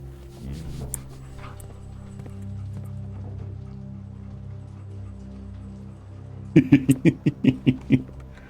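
A dog in the video game Blue Prince lets out a quick run of about seven loud, evenly spaced barks near the end, after a quieter stretch of low background ambience.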